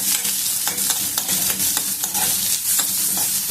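Onions frying in a pan with no cumin or mustard seeds, cooking until lightly coloured, give a close, steady sizzle broken by repeated stirring scrapes throughout, with no talking.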